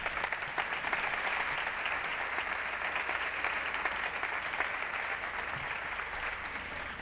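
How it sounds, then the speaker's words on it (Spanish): An audience at a sports-talent talk breaks into sustained applause, a dense even wash of clapping at moderate distance with no speech over it. "Pido un aplauso para él."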